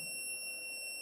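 A homemade short-circuit breaker's buzzer sounds after the breaker trips on a shorted load, giving one continuous high-pitched electronic tone that stays steady and fairly loud for the whole second with no talk.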